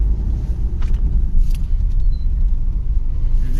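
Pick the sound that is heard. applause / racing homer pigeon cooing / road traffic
road traffic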